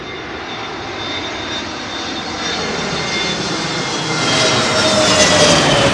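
A jet airliner passes low overhead on final approach to runway 27L at London Heathrow, a loud steady engine roar that swells slightly toward the end, with no voices.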